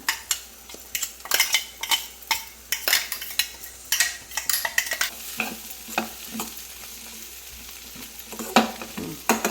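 Ground ash gourd paste goes into a pan of fried spices and is stirred, giving repeated scraping and clattering strokes of a spoon against the pan over a soft sizzle, close and steady throughout with no voices.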